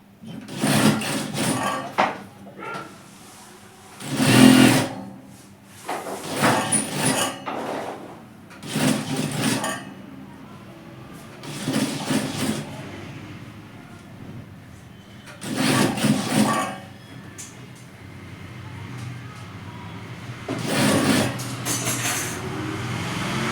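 A sewing machine runs in short bursts while it stitches the edge of a capri pocket. Its motor whirs and rattles close by, with pauses between runs.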